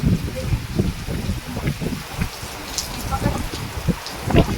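Heavy rain pours steadily in a rural area of Deodar taluka during a storm with lightning and strong wind, a dense, continuous hiss with scattered louder drop impacts close by.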